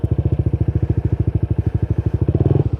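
A Yamaha NMAX scooter fitted with a TSMP CVT set runs in S mode for a performance test, its engine pulsing in a fast, even, loud chug that swells briefly near the end.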